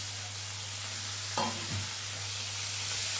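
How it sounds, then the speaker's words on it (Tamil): Chopped tomatoes sautéing in a pan after onions, a low steady sizzle over a constant hum, broken once by a single scraping stir of a spoon. "தக்காளி நல்லா வதங்கிறதுக்கு நம்ம வதக்கலாம்."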